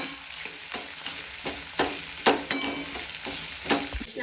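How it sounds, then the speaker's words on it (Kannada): Ivy gourd frying in a pan with garlic and turmeric, a continuous sizzle broken by repeated stirring scrapes, close and fairly loud, with no talk. "ತೊಂಡೆಕಾಯಿ ಸ್ವಲ್ಪ ಮೆತ್ತಗ ಹುರಿಬೇಕು"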